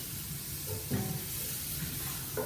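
Onion frying in a pan for a sausage casserole, a quiet steady sizzle with a couple of brief stirring knocks, no talking.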